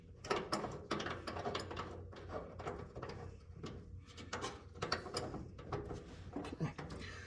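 An automotive hood hinge adjuster tool ratchets its claw up toward the hinge, giving a quick series of metallic clicks and clacks in uneven bursts at close range.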